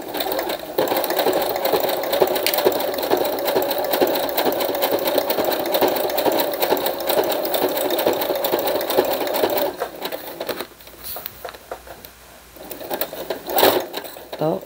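A sewing machine stitches a thick plastic pouch in a steady loud rapid whir, pauses briefly near the end, then gives a short burst more.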